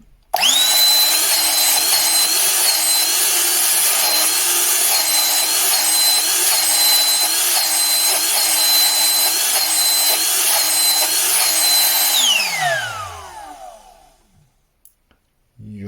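An Einhell CE-AP 18 Li cordless air pump runs with a loud, steady high-pitched motor whine for about twelve seconds, then winds down smoothly to silence.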